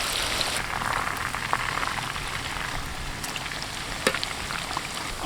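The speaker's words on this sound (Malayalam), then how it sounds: "നന്നായിട്ട് ഇതിൽ ഒന്ന് ഫ്രൈ ചെയ്തെടുക്കാം കേട്ടോ." Quail frying in hot oil in a crowded pan, a steady crackling sizzle with scattered pops and occasional sharper spits, fairly close and continuous throughout.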